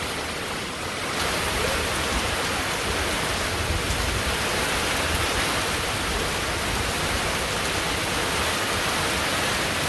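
Heavy rainstorm pouring down in a village, a dense, steady roar of rain on surfaces that swells after a quieter first second and holds evenly.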